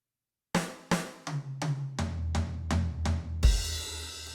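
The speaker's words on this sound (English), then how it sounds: "If you move it across the drum kit, it should sound like this." A drum fill moves around the kit in steady, evenly spaced hits that drop from higher to lower toms, then lands on a ringing crash with a deep kick.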